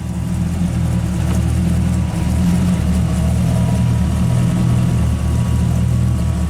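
A loud, steady engine of a 1940 Ford sedan drones continuously, a deep mechanical roar heard from inside the car.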